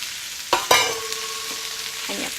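Vegetables with ginkgo nuts, button mushrooms and corn stir-fried for a Malaysian chai choy dish, two sharp scraping stirs followed by a steady broadband sizzle, close and moderately loud with no talking.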